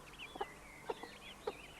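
Chickens cluck three times in short bursts, moderately close, amid high chirping birdsong in a permaculture smallholding.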